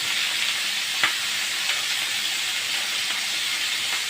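Chicken pieces laid skin-side down in a hot pan sizzle steadily, a dense continuous frying hiss with occasional small pops, close and moderately quiet.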